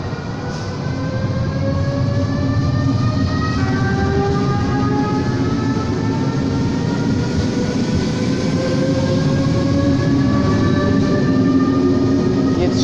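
A fast Italian train rumbles steadily past at close range, with long whining wheel squeals sliding in pitch over the continuous roar.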